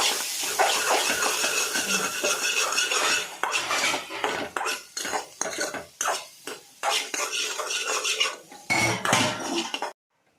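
Boiled sweet corn kernels with coriander and lemon being stirred in a pan, metal utensil scraping and clattering in uneven bursts over a faint sizzle, close and fairly loud.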